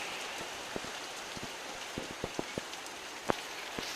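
Rain falls steadily with a constant hiss, scattered louder drips and drops tapping irregularly on a nearby surface.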